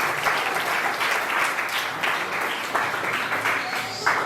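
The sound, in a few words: audience applause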